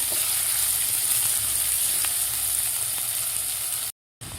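Sliced onion fries in an open pan for khichdi, a steady close sizzle that briefly cuts out near the end and then resumes, no voices.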